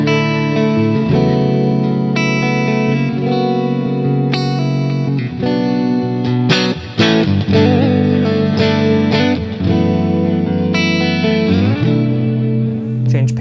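Blackstar St. James electric guitar with a clean tone played freely, chords and single notes washed in reverb and echoing delay, steady and loud throughout.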